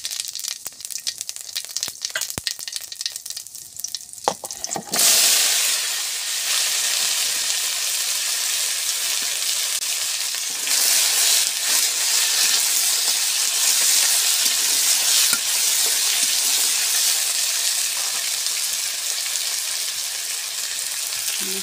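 Spices, bay leaf and sauce sizzling and frying in hot oil, a loud, steady crackling hiss that starts abruptly about five seconds in and continues unbroken, close by, after a quieter stretch of faint clatter.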